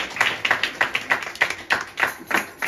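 Congregation in a church service clapping together in a steady rhythm, about three claps per second, sharp and fairly close, with no talking over it.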